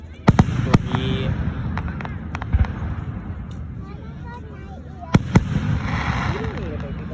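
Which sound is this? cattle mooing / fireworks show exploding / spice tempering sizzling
fireworks show exploding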